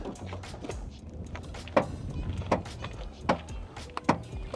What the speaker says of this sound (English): It creaks like this push rod that basically is lifting the rear hatch